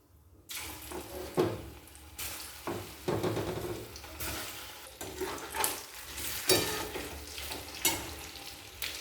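Chicken pakoras sizzle as they deep-fry in hot oil, a constant crackling hiss broken by sharp bursts and scraping stirs as pieces are added and turned.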